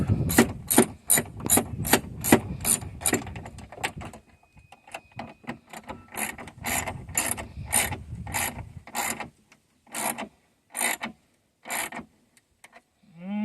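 Ratcheting clicks while a bolt is snugged down on the door window of a 2008-2014 Dodge Challenger, a rapid run of close clicks followed after a pause by slower, separate bursts.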